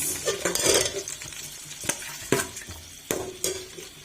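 Chopped onions go into about a cup of hot cooking oil in a pot of rice pulao prep, sizzling steadily while a utensil stirs and clanks against the pan in a few sharp knocks.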